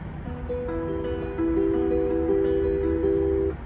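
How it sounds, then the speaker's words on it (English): Acoustic guitar fingerpicked in a repeating chord pattern, notes ringing over each other, soft and steady with no voices. "altogether you do that finger picking pattern 4 times and it sounds like this"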